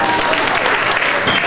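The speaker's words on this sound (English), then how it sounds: "No need to applaud." A comedy club audience applauding a stand-up comedian, a dense burst of clapping that fills the whole moment, loud and close, with a voice mixed in.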